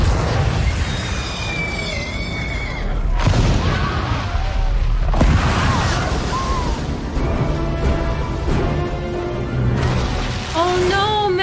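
A loud, dramatic soundtrack of booming volcano-eruption explosions and rumbling blasts layered under swelling music, with sustained tones and sweeping effects throughout.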